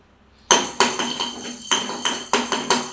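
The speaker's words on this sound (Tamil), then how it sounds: "முதல்ல மிளகை போட்டு மிளகும் சீரகம் போட்டுக்கலாம்." Black pepper and cumin seeds tossed into a pan for dry roasting for a crab soup, giving sharp clinking, tapping hits in quick irregular succession, close and clear with no talk.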